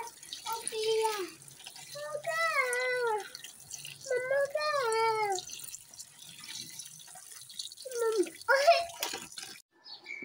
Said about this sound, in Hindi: अब इनको मैं धो के डाल दूँगी